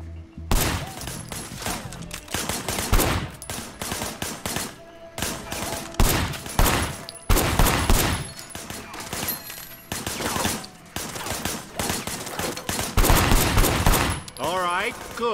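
Sustained bursts of gunfire from a firefight in the video game Sleeping Dogs, with repeated volleys and automatic fire spread across the scene, loud and close, with brief lulls between clusters of shots and occasional voices mixed in.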